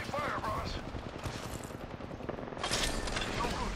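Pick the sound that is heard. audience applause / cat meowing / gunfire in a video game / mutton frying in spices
gunfire in a video game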